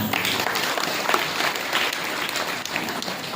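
An audience at a religious discourse gathering applauds, producing dense, continuous clapping that fills the whole span at steady volume.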